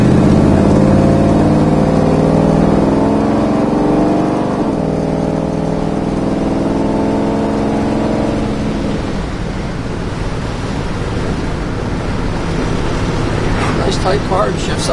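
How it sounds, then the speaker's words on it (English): A 1968 Chevrolet Chevelle driving on the road and shifting up through the gears, steady engine drone that drops in pitch at a gear change, with someone talking over it and wind noise building later. "shifts up through the gears nice as can be and goes down the road straight."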